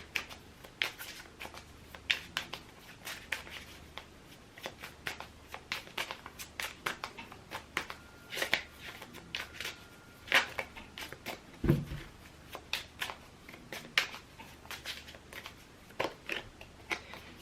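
Tarot cards are shuffled by hand: quiet, close, crisp papery snaps and riffles in an irregular, continuing rhythm, with one short dull knock partway through.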